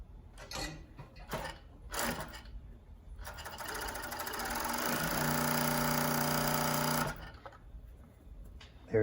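A Jack W4 cover stitch sewing machine runs in a few short rattling bursts, then stitches continuously for several seconds with a fast mechanical chatter before stopping; close and fairly loud.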